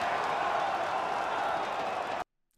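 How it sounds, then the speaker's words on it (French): Arena crowd at a CS:GO Major esports match: a loud, continuous roar of cheering that washes over everything, then cuts abruptly to near silence. "écoutez-moi la foule"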